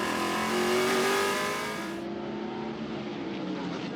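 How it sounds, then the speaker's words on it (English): Trans Am race cars on a track, a loud engine roar close by that rises in pitch under acceleration and then fades into a lower, steady drone as the cars pull away. "Thwaites getting past Dreesy as they headed down towards turn 3, the first overtaking place"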